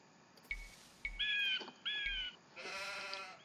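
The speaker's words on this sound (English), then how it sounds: "Got some sheep." Sheep in Age of Empires II give several short, clear bleats one after another, each starting with a soft thump, ending in a longer, buzzier bleat.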